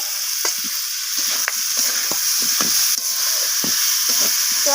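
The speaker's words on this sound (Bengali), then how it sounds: "আলুগুলোকে দিয়ে আমি সব কিছুর সাথে আবারও কষিয়ে নিচ্ছি" Fried potatoes are sautéed with salt and spices in a pan, giving a loud continuous sizzle broken by repeated scraping strokes of a spatula, close up, with no voices.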